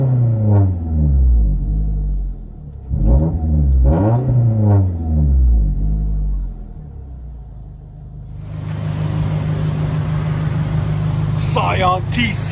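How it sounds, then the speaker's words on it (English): Interior cabin sound of a 2016 Scion tC four-cylinder with an LCGP metal bottle muffler, resonator-style setup and rear muffler delete: deep engine drone with repeated rev swells, then steadier rumble under road noise. "Scion TC 2016 4-cylinder with an LCGP metal bottle muffler"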